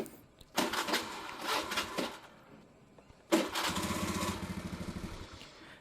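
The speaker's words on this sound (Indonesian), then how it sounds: "Kenapa motornya nggak mau nyala?" An out-of-fuel motorcycle engine cranks twice without catching, two loud grinding bursts, the second a rhythmic chugging that sputters and fades without the engine firing.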